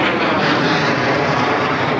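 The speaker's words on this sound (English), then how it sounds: "Fighter jets, baby." Fighter jets roar steadily overhead, a loud, dense, continuous engine rumble that fills the whole moment without letting up, with no speech.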